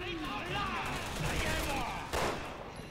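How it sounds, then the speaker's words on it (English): Gunfire in the video game Resident Evil 6 rings out in a brief run of shots, with a sharp loud report near the end over continuous game sound. "Trying to make these shots count, baby."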